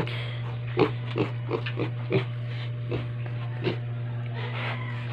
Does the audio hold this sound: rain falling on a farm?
no